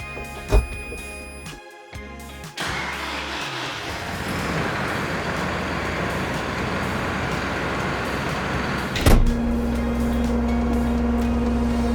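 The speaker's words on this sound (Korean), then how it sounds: "이번에 시동을 한번 걸어서 문을 닫아볼게요." A Massey Ferguson MF4709 tractor engine cranks and catches into a steady diesel rumble, then the cab door shuts with a solid thump and the engine settles into a muffled, quieter hum heard from inside the cab.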